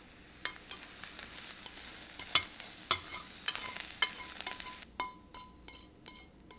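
Mushrooms frying in an inexpensive frying pan while being stirred for japchae, a steady sizzle punctuated by repeated clinks and scrapes of the utensil against the pan, close up.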